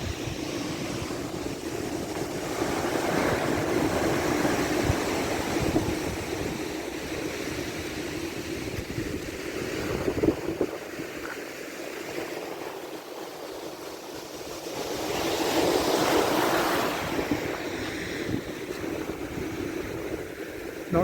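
Waves break and wash up a beach at Hawke's Bay in slow, rolling surges that rise and fade, with wind buffeting the microphone throughout.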